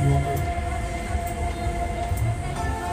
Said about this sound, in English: It's Danter's runaway train.